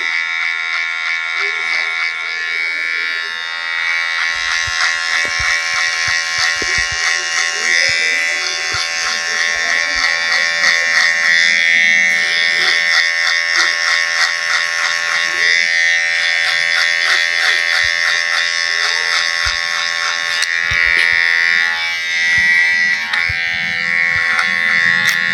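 An electric hair clipper runs continuously close by, blending leftover hair during a one-side slope haircut at home, a steady loud buzz that wavers slightly as the blade moves, with a few soft clicks and no talking over it.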